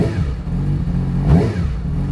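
Idling in warm-up mode, a Yamaha R6 sport bike engine holds a steady, raised drone close by, with a slight swell in revs midway before settling back.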